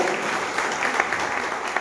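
A crowd at a Marathi public gathering and inauguration claps in a dense, even burst of applause, close and fairly loud, with a faint murmur of voices underneath.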